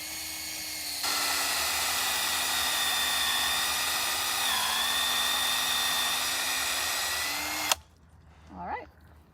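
A drill bores a tap hole into a sugar maple trunk, its steady high whine running for about seven seconds under a slight pitch dip before cutting off abruptly, followed by quiet rustling.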